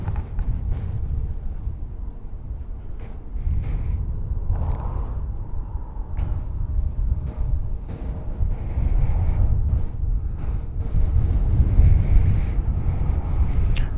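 Wind buffets a microphone outdoors at an airport, a low rumbling roar that gusts and strengthens toward the end, with faint scattered knocks and no clear talk.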